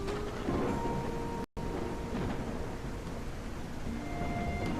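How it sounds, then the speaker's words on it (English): Steady rainfall in the video game Whiskerwood, a constant hiss of rain with low rumbling underneath and a few faint tones, broken by one brief dropout. "So much rain."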